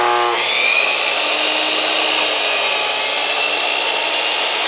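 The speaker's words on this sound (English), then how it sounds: "I'm going to have to rip that one down before I can put it in place and cut it to length" A saw rips a wooden porch-stair trim board lengthwise, a loud steady roaring whine that holds evenly throughout after a brief start.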